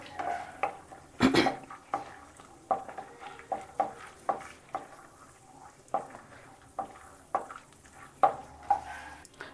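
Walnuts roasting in a pan until crisp for jaggery carrot halwa, with a spoon scraping and stirring in a steady rhythm about once a second over a soft, low sizzle, close by and with no talk.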